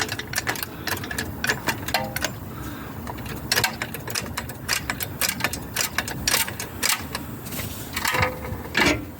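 Rapid ratcheting clicks of a car jack raising the wheel assembly of a Volvo XC90, with metallic clanks and taps in an uneven, close-up rhythm throughout.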